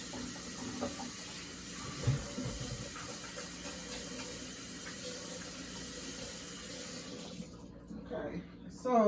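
A kitchen tap runs while hands are quickly washed in a sink during cooking, a steady close hiss of water with small splashes, then it cuts off and quiet movement follows.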